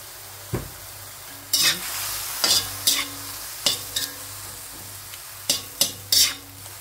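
Pancit canton ingredients are stir-fried in a pan, a steady sizzle underneath while a utensil strikes and scrapes the pan in about a dozen sharp, close bursts.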